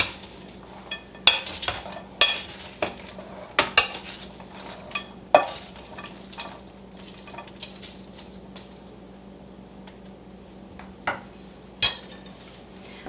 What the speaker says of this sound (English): even stirring it like this works fine